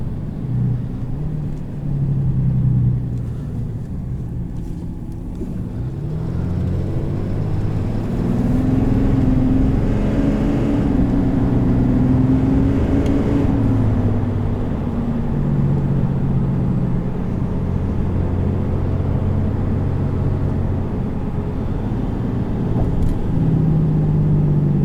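A 2018 RAM 2500HD Laramie pickup with a Cummins diesel engine drives with its exhaust brake in use, giving a continuous low engine drone that rises and falls, heard from inside the cab without talk.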